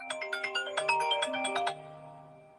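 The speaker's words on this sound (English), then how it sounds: "Number calling my phone." A phone ringtone for an incoming call plays a quick, bright electronic melody of rapid notes, then stops and fades out, fairly close and alone.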